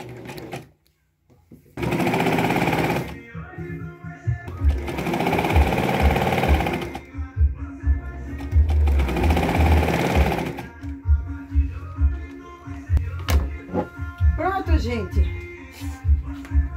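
A Singer sewing machine stitches a fabric pillowcase in two or three long runs of fast whirring, and someone speaks Portuguese between and over the runs, with a close buzzing motor and some handling noise.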